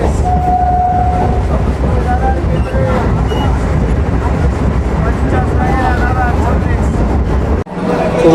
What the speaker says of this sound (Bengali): এখন আমাদের ট্রেন এসে পৌঁছলো নৈহাটি জংশন।